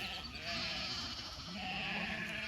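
Sheep bleating on a farm where spring lambing is underway, several calls rising out of a steady outdoor background, moderately distant and alone without talk.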